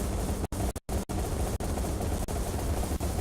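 Rapid gunfire in the video game Alice: Madness Returns, a dense continuous rattle of shots broken by a few brief gaps, loud and close with no talking.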